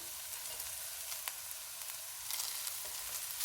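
Chicken, capsicum and cabbage sizzle steadily while being stir-fried in a pan over medium-high heat, a continuous soft frying hiss with light stirring scrapes and no talking.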